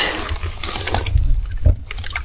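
Water sloshes and splashes in short bursts, like water being scooped and poured into a bucket, close and fairly loud.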